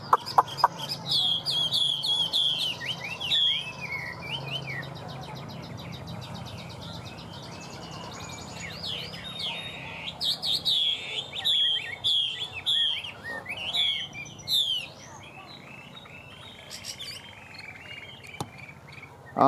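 A Chinese hwamei songbird sings in varied, bright whistling phrases and rapid chirps, loud and close, in bursts with short pauses across the stretch, over a low steady background hum.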